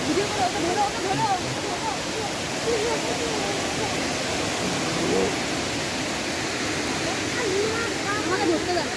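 Elephant Falls waterfall in Shillong roars with a steady, dense rush of falling water, loud and continuous throughout, with faint voices in the background.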